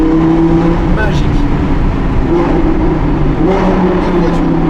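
Audi R8 V10 Plus fitted with a Capristo exhaust, a loud, close, steady engine drone from inside the car, with people talking over it.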